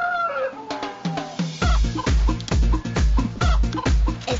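A hen and rooster cluck loudly and close by in a rhythmic run of sharp repeated calls, with a few softer bird notes at the start before the steady clucking begins.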